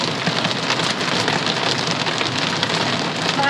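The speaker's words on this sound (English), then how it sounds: "Hail! Oh, hail!" Heavy hail and torrential rain pound a camper in the Black Hills, a dense, steady roar of impacts that stays loud and unbroken throughout, with no voices.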